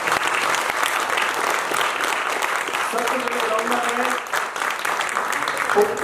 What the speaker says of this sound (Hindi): वो उनके लिए आप जोरदार दिल से तालियां बजा दीजिए